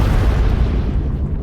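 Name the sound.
explosion sound effect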